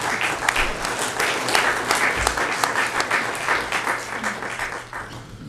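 An audience at a chamber of commerce candidate forum gives the candidates a sustained round of applause, a dense, even clapping that holds for over five seconds and eases slightly at the end.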